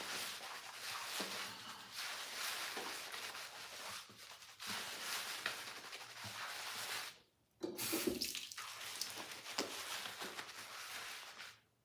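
Water running steadily over hair during a wash, a close, broadband hiss with a brief pause partway through and faint rubbing under the flow, no talking.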